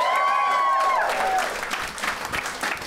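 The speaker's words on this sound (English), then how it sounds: "Give me a round of applause if you feel good to be here" Live audience at a comedy podcast taping applauding, a loud sustained wash of clapping that starts full and tapers slightly, with a whistle-like tone near the start.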